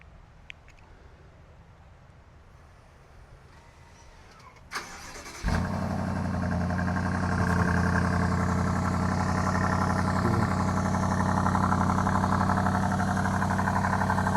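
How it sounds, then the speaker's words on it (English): A 2021 BMW X5 M50i V8 cold-starting from the key: a quiet stretch, a sharp crank, then a loud catch into a high, steady fast idle that swells a little higher and holds, close and alone. "So I'm going to do a cold start using the key"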